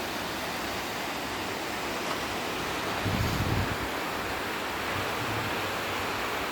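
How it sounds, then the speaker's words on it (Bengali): Sea waves breaking against rocks on a windy shore, a continuous broad wash of surf and wind noise with a slightly stronger surge midway. "সাগরের ঢেউগুলি পাথরের সাথে বাড়ি দিচ্ছে পানিগুলি কিভাবে পাথরের সাথে বাড়ি দিচ্ছে"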